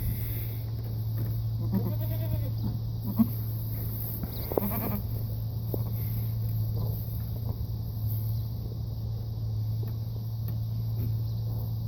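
A couple of brief goat bleats near the start, then mostly a steady low hum with faint scattered noises and little else.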